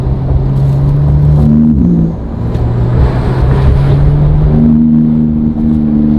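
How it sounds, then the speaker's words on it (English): Porsche 911 GT2 RS (991) with an IPE exhaust hums steadily up close with a low rumbling exhaust burble, pitch dipping and rising slightly as the throttle eases off. "So off throttle, you hear a little bit of that burbly noise in the exhaust."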